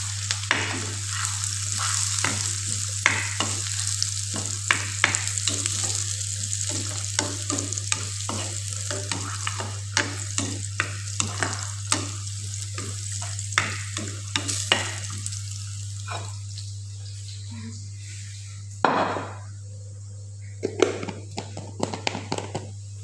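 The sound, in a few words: frying ingredients for drumstick and mango dal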